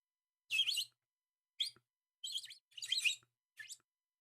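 A small bird chirps in five quick, high bursts spaced irregularly over a few seconds, clear and close against near silence.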